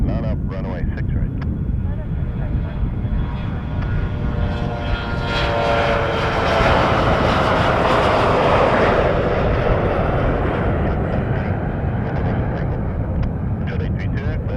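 A propeller airliner taking off from runway 6 right at Montréal-Trudeau Airport, its engine roar building steadily to a loud peak and holding, with a low rumble throughout and radio-style talk underneath.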